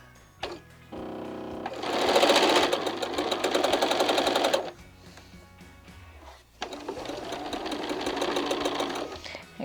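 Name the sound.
sewing machine chain piecing half square triangles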